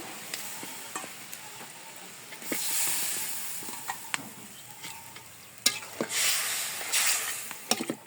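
Fish sizzles as it is added to sautéed spice paste in a pan, with a soft background hiss and two loud bursts of frying as the pieces land and are stirred.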